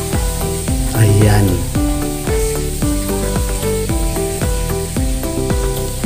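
Marinated chicken adobo made with Sprite frying in a pan: a steady, loud sizzle that runs throughout under a voice and louder tonal music.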